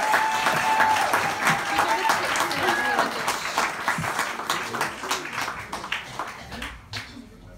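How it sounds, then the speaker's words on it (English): Audience applause fills a talent show venue before a duet of a song, with a dense clatter of clapping that thins and fades toward the end. "Round of applause for the girls, guys."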